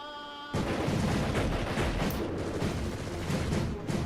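After a brief quiet moment, a sudden burst of heavy, continuous gunfire from soldiers in a film scene erupts and rattles on loudly without pause.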